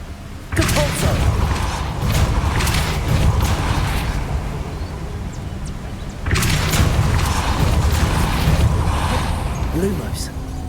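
In the video game Hogwarts Legacy, a Depulso spell is cast as two loud, sudden rushing blasts about six seconds apart, each followed by a sustained roaring, rumbling wash of sound.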